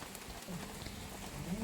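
Steady rain falls outside a house where the neighbour's hens wander in the wet, a continuous close hiss of drops with faint tonal sounds mixed in.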